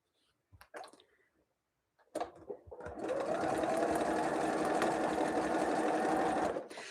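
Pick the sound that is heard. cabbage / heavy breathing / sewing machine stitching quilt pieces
sewing machine stitching quilt pieces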